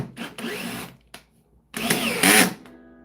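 Power drill driving screws into pre-drilled hard wood, two strained bursts of whirring motor separated by short pauses, the second louder and labouring, close up.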